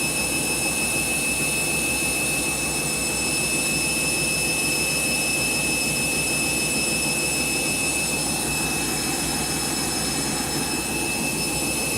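A Candy washing machine spins at speed during its rinse cycle, giving a steady, loud whirring roar with a constant high whine throughout, and no talking.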